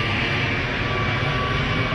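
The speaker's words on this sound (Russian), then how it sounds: "Смотрите, самолет пролетает прямо над тобой." An airplane passes low overhead above an island in Mauritius, its engine a loud, steady roar that fills the whole stretch without letting up.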